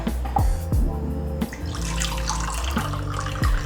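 Hot water pours and splashes over dates in a bowl for chocolate date brownies, a close liquid gurgle with a few sharp knocks and drips along the way.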